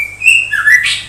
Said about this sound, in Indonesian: ada burung yang bunyi.